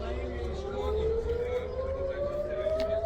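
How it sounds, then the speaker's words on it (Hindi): Civil defense air raid sirens sound during a missile attack in Israel, a loud, steady wail that slowly rises in pitch over a dense bed of crowd noise, people moving and talking. "सायरन तेज़ी से बज रहे हैं"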